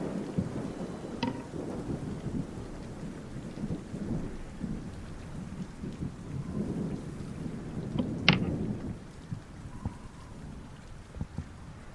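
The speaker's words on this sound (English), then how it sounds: "It's a stormy night." A thunderstorm on a stormy night brings continuous rain and low rolling thunder, with a few sharper cracks and drips standing out over the steady downpour.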